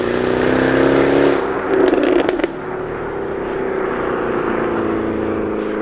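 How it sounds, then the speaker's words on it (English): Jaguar F-Type V8 R exhaust in dynamic mode, a loud, close burbling roar with a run of sharp pops and crackles midway before settling into a steady rumble. "The burbling exhaust now barks its intent."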